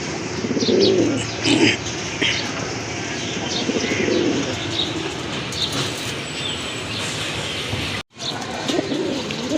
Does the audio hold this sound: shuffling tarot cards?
no